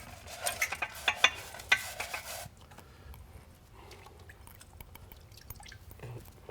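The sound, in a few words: scrubbing plastic wine filter plate with nail brush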